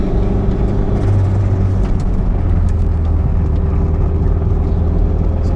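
Toyota MR2 Turbo with an S54 engine, a lightened flywheel and a different clutch, driving in third gear at moderate speed, a loud steady engine drone with road rumble heard from inside the car, no talking.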